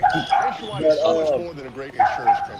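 A dog barks and yips several times in quick bursts, close and fairly loud, with whimpering tones between the barks.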